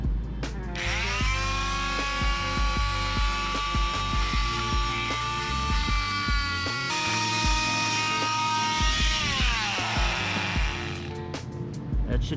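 A loud, high-pitched power tool whines while cutting clearance into a 5.0 Mustang valve cover in a garage, steady grinding punctuated by brief pitch dips and short bursts as the load changes.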